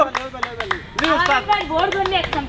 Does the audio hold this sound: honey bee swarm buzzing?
no